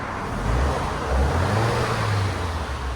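2019 Alfa Romeo Giulia Q2 with a 2.0-liter turbo engine and modified exhaust, revved in two rising low surges over a steady rumble, recorded close to the car with no talking.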